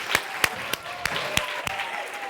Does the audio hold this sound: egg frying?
no